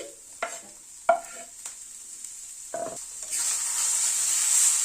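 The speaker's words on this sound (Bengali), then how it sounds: "চিংড়ি মাছটা মিশিয়ে দিচ্ছি।" Prawns being stirred into a fried bean (shim) mash in a pan: a few distinct scraping stirs with spoon clatter, then a steady sizzle rising toward the end, close and fairly quiet.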